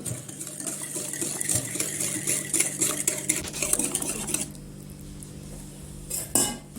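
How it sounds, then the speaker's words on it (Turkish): A spoon clinks and scrapes around a bowl while stirring a mixture of cocoa and sugar, rapid rhythmic scraping for about four seconds, then a quieter pause and a final clink. "Şekeri erinceye kadar güzelce karıştırıyorum."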